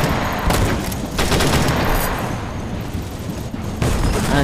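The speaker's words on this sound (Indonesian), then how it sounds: "kita terkena bom guys, terkena mod 24 ini, granat lempar, sekali lempar langsung meledak ini guys" A thrown grenade explodes in a shooter video game, a loud booming blast with crackling gunfire around it, dense and close throughout.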